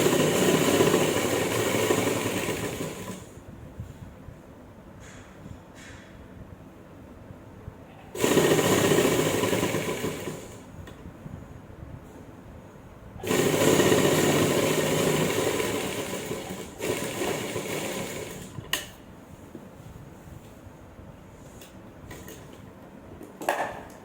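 An electric sewing machine stitches a strip onto an umbrella frock in bursts of a few seconds each, a loud close mechanical whir that stops and restarts three times, with quiet gaps and small clicks between runs.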